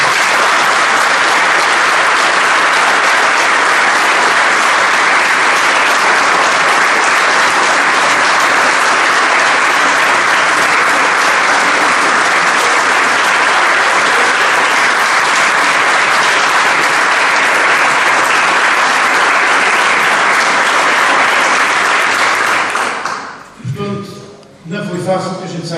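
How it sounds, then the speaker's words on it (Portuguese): An audience at a philharmonic society's anniversary ceremony applauds, a loud, dense, steady roar of clapping that lasts about twenty-three seconds before fading abruptly into quieter room sound. "Eu gostaria que desse uma salva de palmas ao Dr. Cléber e ao Paulo Nascimento Cabral, da Ilha de São Miguel."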